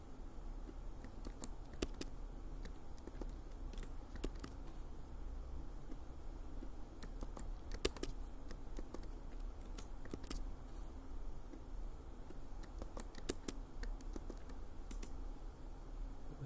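Faint keystrokes on a computer keyboard as a chat message is typed, scattered light clicks in irregular bursts over a steady low background hum, with no one talking.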